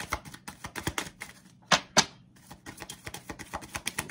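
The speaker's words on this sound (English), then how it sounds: "These cards are coming harder and harder to shuffle." A tarot card deck, a Romance Angels set, being shuffled by hand: a run of quick crisp papery riffles and taps close by, with two sharper snaps midway and no talking.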